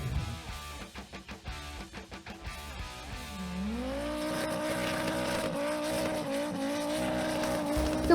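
Drift cars at the Irish Drift Festival roar past with revving engines and a rising engine note into sustained tire squeal, loud and close.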